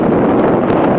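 Strong wind buffets the microphone on a cold beach, a steady loud broadband roar with no breaks for the whole second.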